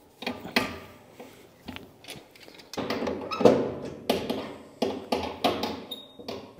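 Tightening an engine module into a mini jet boat hull from the outside gives a close series of sharp taps, clunks and ratcheting clicks, irregular and mechanical, with short pauses between bursts.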